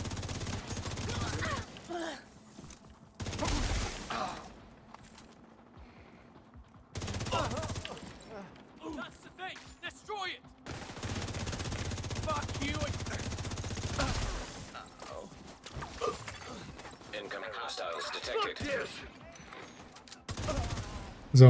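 Bursts of video game gunfire, including rapid automatic fire, come in several loud clusters separated by quieter gaps, with a player talking over parts of the action.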